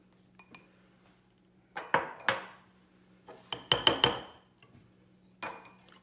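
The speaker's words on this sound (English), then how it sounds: "Get that pumpkin blended in, little short whisks" A whisk clinks and rattles against a bowl in short bursts of quick strokes, blending canned pure pumpkin into a from-scratch custard pumpkin pie filling, with quiet pauses in between.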